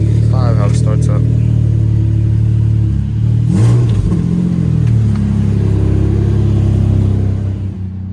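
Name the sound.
Nissan Maxima car engine starting up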